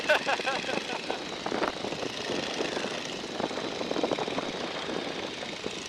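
A steady Boeing Stearman biplane propeller engine drones throughout in flight, fairly loud and continuous, with no pauses.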